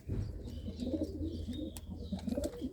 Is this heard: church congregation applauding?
no